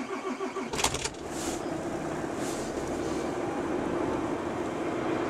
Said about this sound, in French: donc je vais démarrer le moteur